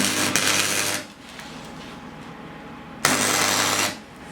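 A bottom reinforcement piece is welded onto an extended control arm for drifting in two loud crackling bursts, each about a second long, separated by a quieter stretch.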